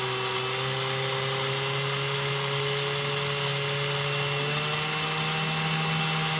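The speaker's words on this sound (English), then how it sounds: "You can speed up the drill." Power drill spinning steadily while twisting wire for an alien wrap, a constant mechanical whine with a sustained humming pitch that climbs slightly late on, close and even throughout, with no one talking.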